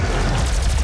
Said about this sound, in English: Plasma boom.